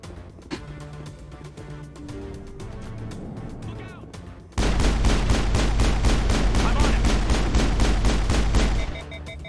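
Rapid automatic fire from an overheating gun in a video game, starting with scattered shots under music, then a loud, steady stream of close rounds that cuts off abruptly near the end.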